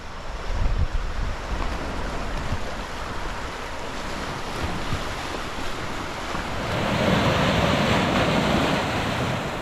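Rough surf crashes continuously against a rocky shore near coastal caves, a broad roaring wash of water that swells louder toward the end, with wind buffeting the microphone.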